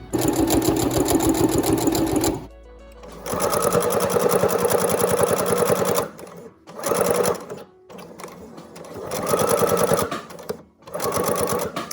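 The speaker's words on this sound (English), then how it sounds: "put your presser foot down and continue to sew straight" A sewing machine running a straight seam on a reusable fabric face mask, several bursts of fast rhythmic stitching broken by short pauses, loud and close, with a voice talking in the gaps.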